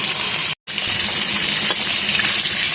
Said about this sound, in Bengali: অর্ধেক অর্ধেক করেই ভেজে নিই।